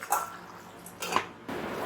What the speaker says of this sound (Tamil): நல்லா குழம்பு கொதிக்குது